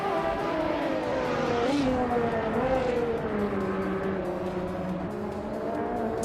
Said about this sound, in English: Marty Freeze is driving a 2006 Panos Esperante GT LM Evo